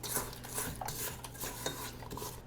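A spatula scrapes down chocolate chip cookie dough in a mixing bowl, giving soft, steady scraping and stirring sounds with faint clinks of utensil against the bowl, close up, with no talking.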